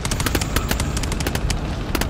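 Automatic weapon fire in the co-op horror shooter GTFO, a quick run of sharp, evenly spaced shots at close range, loud and continuous for a couple of seconds.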